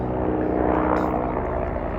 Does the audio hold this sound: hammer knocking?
no